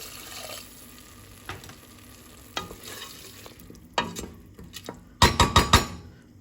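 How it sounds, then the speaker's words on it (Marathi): Brown rice frying in a pan is stirred with scattered scrapes and clinks, then water is poured in near the end, setting off several loud bursts of sizzling. "आनी हांव आतां उदक घालता."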